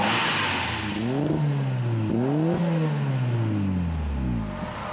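A turbocharged 360-horsepower car engine revs repeatedly, pitch rising and falling in several surges with a turbo-like whine, loud and close, no voices.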